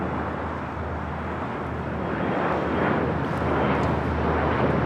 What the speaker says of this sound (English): That is Big Strike 321 taking off to Las Vegas on an ERJ 135 LR